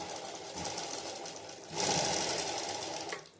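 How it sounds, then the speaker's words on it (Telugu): An electric sewing machine stitches lining onto a blouse, whirring continuously and close by, with the motor rising in speed and loudness partway through and running without speech. "ఇప్పుడు మొత్తం నేను లైనింగ్ అటాచింగ్ చేసుకుంటా"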